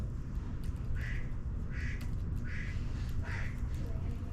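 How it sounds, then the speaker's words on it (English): Four nasal duck-like quacks at a steady pace, about one every second, sounding over a constant low rumble of background noise. "Who's got the quack?"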